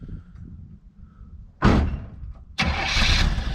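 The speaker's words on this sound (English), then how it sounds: "Listen to that old car crank right on up." An old car, 1970 Chevrolet Nova or 1999 Pontiac Firebird, long parked, cranks with a low idle rumble, then two loud bursts as the engine catches and roars to life close by.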